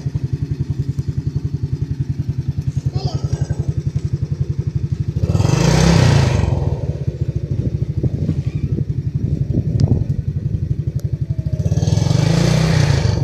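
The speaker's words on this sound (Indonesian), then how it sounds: "untuk gas sampai mentok sekarang sudah bisa normal kembali, tidak ada berbetnya" A Yamaha Jupiter Z motorcycle with a non-limiter CDI fitted, its engine running steadily close by and then revved hard to full throttle in two loud, smooth bursts, with no sputtering between them.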